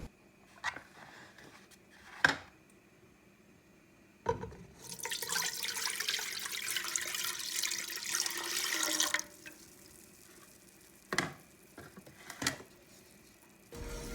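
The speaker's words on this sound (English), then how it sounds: "Next, we're going to add the dandelion tea we brewed earlier." Brewed dandelion tea pours steadily into a pot for about five seconds while making dandelion jelly, a close, splashy liquid rush set between quiet kitchen knocks.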